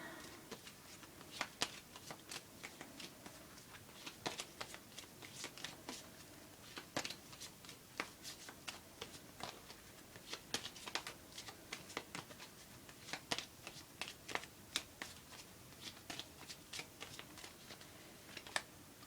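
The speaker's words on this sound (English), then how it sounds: "Let's shuffle the cards." Tarot cards are shuffled quietly, close up, with soft irregular riffling and tapping clicks scattered across the stretch.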